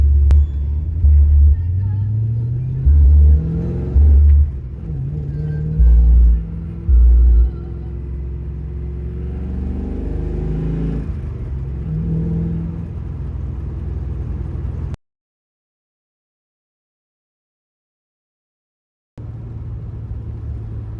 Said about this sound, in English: Some rattles that I can hear now that I previously couldn't hear.